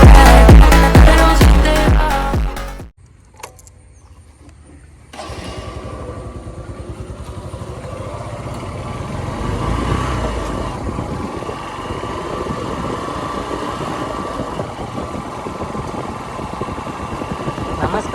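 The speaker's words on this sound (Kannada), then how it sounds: "ಇದೇ ನನ್ನ ಬೈಕ್." A Honda CB Shine BS3 motorcycle engine running steadily after a short burst of music, a continuous low mechanical rumble that holds for several seconds.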